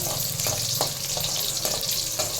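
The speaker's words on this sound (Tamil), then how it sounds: "வெங்காயம் நல்லா பொரியணும், முருகலா." Onions and curry leaves fry in hot oil, a steady loud sizzle with soft periodic clinks of stirring, no voices over it.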